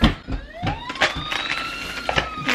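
Toy ambulance siren playing a loud, close electronic wail with rising and falling tones, accompanied by clicks and handling noises.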